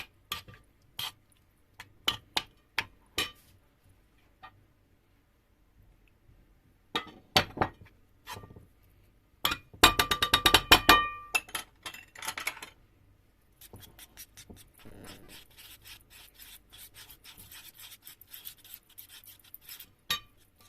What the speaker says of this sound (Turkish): bir su bardağı su koyuyoruz ve iyice özleştiriyoruz